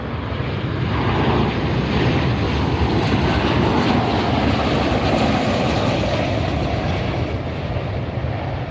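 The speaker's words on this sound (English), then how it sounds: "next arrival, 737-9ER, coming in from Vancouver" Boeing 737-9 jet airliner from Vancouver arriving at LAX, its engines a loud, steady broadband roar held close and constant throughout, with no voices.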